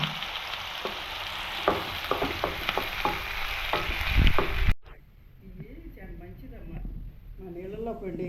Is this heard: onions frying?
yes